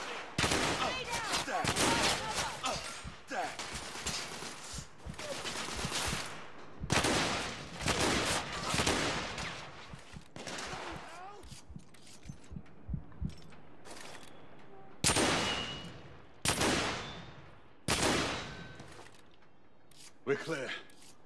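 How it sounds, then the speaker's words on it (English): Suppressing gunfire in The Order: 1886, loud repeated bursts of firing with brief pauses between them, the volleys coming close together. "I'm taking suppressing fire."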